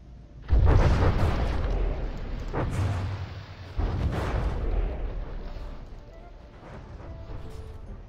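Naval cannon fire and explosions in the From the Depths warship battle game: several heavy booming blasts in quick succession, each trailing into a long rumbling roar, loud and close.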